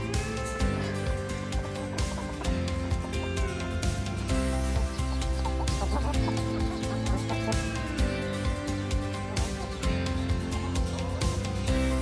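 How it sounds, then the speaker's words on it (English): Chickens cluck in a group, their repeated short calls mixing with a dense layer of other sound throughout, steady and moderately loud without pauses. "Chickens are like horses in that they're gregarious."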